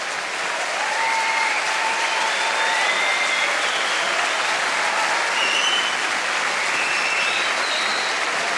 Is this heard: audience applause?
yes